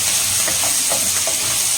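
Spices stirred into hot oil, with a dense continuous sizzle and soft scraping stirs, close and loud with no voices.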